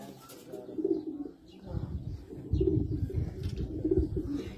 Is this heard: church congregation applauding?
no